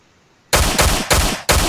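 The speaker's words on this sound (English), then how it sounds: "I hear gunshots." Three rapid bursts of loud gunfire in the game Miscreated, sharp and close, with short pauses between volleys after a brief quiet start.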